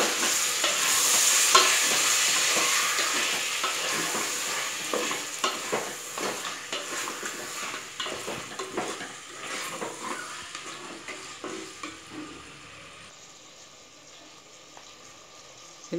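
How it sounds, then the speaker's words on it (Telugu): Goat head meat pieces fry and sizzle in a pan while being stirred, a loud hissing sizzle with rapid scraping and clattering strokes that gradually quieten toward the end, close and with no voices. "తలకాయ ముక్కలు వేసుకోవాలి. వేసుకొని బాగా కలుపుకోవాలి."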